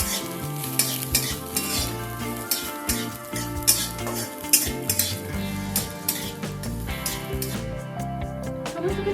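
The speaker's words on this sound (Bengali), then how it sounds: "সমস্ত কিছু আবারও হালকা করে একটু ভেজে নেব" Garlic, green chilli and cumin sizzle steadily in a pan. A spoon or spatula scrapes and clinks against the metal as the mix is stirred, and no one speaks.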